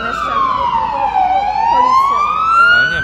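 A police car siren wails loudly and close in a long descending-then-rising sweep, heard in a Warsaw street during a Volhynia massacre remembrance march, with faint voices and traffic beneath.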